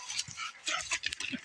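A hunting dog barks and whimpers at two raccoons up a tree, giving short, excited yelps in quick bursts at close range.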